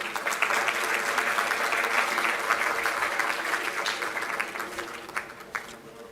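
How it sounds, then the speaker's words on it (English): Applause from the audience at a convocation ceremony, steady crowd clapping for several seconds that tapers off into scattered claps near the end. "Please applaud everybody."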